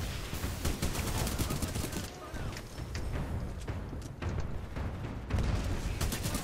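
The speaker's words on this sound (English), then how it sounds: "Oh my god, they got arc grenaded!" Titanfall 2 combat with an arc grenade attack: dense, continuous crackling bursts and rapid gunfire-like pops, loud and busy throughout with brief dips.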